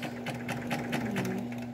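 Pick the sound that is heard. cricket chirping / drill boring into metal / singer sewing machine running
singer sewing machine running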